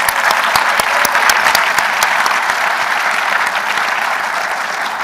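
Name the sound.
audience applause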